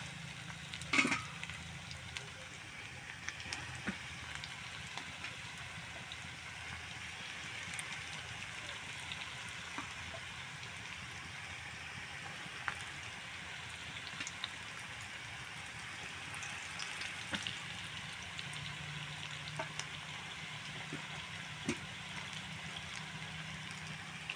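Pieces frying in hot oil, a faint, steady crackling sizzle like light rain, low in level and continuous without clear talk.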